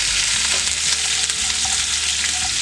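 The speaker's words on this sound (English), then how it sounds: "add the curry leaves and the green chilies. Be careful when it is popping up." Curry leaves and green chilies fry in hot oil, giving a steady, loud sizzle broken by sharp pops and crackles, with no talk, while rava idli is being cooked.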